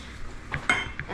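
Dishes and cutlery being cleared and stacked at home after a meal, a few brief clinks and knocks of plates and utensils in quick succession, close and moderately loud.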